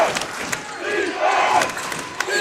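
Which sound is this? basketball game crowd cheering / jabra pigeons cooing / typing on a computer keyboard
basketball game crowd cheering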